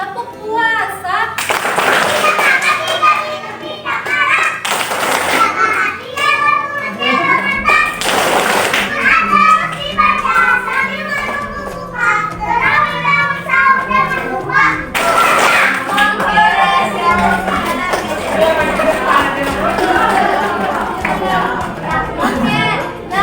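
Group of children clapping and chanting the rhythmic 'tepuk puasa' routine in Indonesian, bursts of claps mixed with lively young voices and chatter, close and fairly loud.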